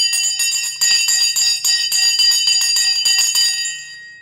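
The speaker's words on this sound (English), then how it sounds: "The bell has now gone." A stock market closing bell rings in rapid repeated bursts for several seconds, loud and bright, then fades out at the end.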